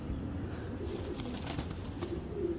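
A pigeon gives soft, faint cooing in a loft, low and murmuring beneath a constant hiss of background noise.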